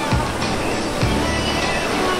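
Water churns and washes steadily in a resort wave pool at an agro resort in Konkan, a close, continuous surf-like wash with soft swells and voices faintly mixed in.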